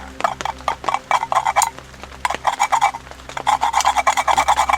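Scraping and scratching out the burnt bottom of a camping cup in the jungle, in short bursts of quick rasping strokes with brief pauses, close up and without talking.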